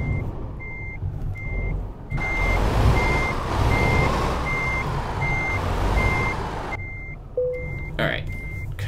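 A truck reverses in Euro Truck Simulator 2, its backup alarm beeping in a steady even rhythm over a loud diesel engine rumble and hiss, continuing for several seconds.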